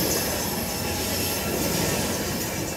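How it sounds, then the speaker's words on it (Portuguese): A passenger train on the Vitória a Minas railway rumbles past with a steady, dense roar of wheels and carriages, loud and continuous with faint high squeal over it. "O trem de passageiros"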